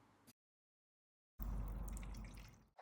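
Water pours into a toy bottle up to a marked fill line, a short trickle, then a pause of silence, then a steady close pouring splash that fills the rest of the clip.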